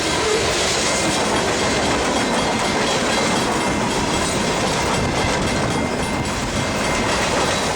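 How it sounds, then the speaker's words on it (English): A freight train led by Kodachrome-painted locomotives rolls west through Port Chicago, its steady loud roar of wheels and cars filling the whole stretch with continuous rumbling and clatter. "Kodachrome Power leads train 199 west through Port Chicago"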